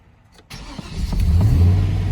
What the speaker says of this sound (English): now we're gonna start the car